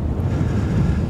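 Steady wind roaring across the microphone on the summit of a Snowdonia mountain, a dense, continuous low rumble gusting around 12 to 14, loud and close with no voices.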